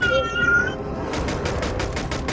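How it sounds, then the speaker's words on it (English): Rapid bursts of video game gunfire ring out, a quick run of sharp repeated shots following a short meow-like tone at the start, with no talk over them. "I'm shooting him"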